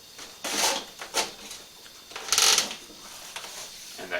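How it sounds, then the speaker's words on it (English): Split oak basket rims creak and crackle in short bursts as they are cinched tight by hand, with several separate close creaks and quiet pauses between them. "you will hear that creaking in these rims"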